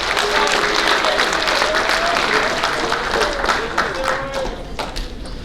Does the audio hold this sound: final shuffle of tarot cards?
no